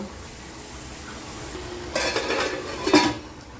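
A metal lid is set onto a cooking pot in a home kitchen, giving a short clatter and a clink of metal on metal after a quiet stretch, then a brief rattle as it settles.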